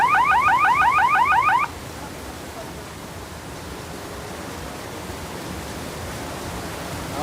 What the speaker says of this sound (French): je pense qu'on va entendre le buzzer.